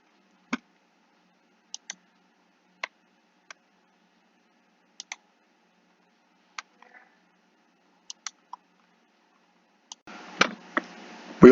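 Sharp single computer mouse clicks fall one at a time at irregular intervals, separated by near silence, while someone adds relatives in a family tree program. A denser burst of noise and clatter comes at the very end.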